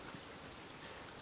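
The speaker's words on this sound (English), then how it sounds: "Rain, a little bit rain, more rain." Rain falls in Holland around a harbor boat under restoration, a faint, steady wash of drops with no voices, even and unbroken throughout.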